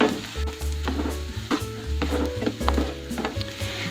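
Finely chopped onions frying in a pan for anda ghotala, a soft steady sizzle with repeated scraping and stirring knocks of a spoon against the pan, close and clear with no talking.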